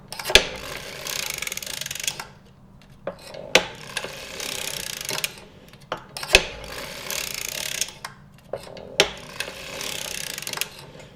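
A circular sock knitting machine is cranked by hand, giving repeated bursts of ratcheting mechanical clatter separated by sharp clicks and short pauses, close and fairly quiet.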